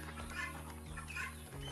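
Chicken on a rural backyard farm clucking in a few short, quiet bursts, close by with light background noise.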